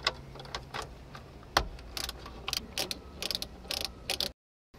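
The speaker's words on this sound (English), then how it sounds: "we're gonna go ahead and grab a 10 millimeter socket wrench and remove this" A socket wrench ratchets out 10 mm bolts while installing a controller in a 2013-2014 Toyota Avalon, giving quiet, close clicking in short irregular bursts with no talking.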